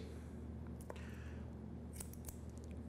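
Scissors cutting hair during an at-home shag layered haircut, a few faint, close snips spread across a quiet moment with no talking.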